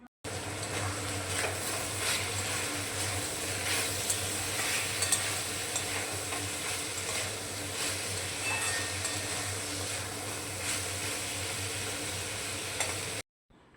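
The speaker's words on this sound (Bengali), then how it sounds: "এবার এর মধ্যে আমি একে একে দিয়ে দিচ্ছি রসুন কুচি। রসুন কুচিটাও ভেজে নেব।" Chopped garlic fries with chicken in a pan, a steady close sizzle with frequent stirring scrapes throughout, then a sudden cut to silence.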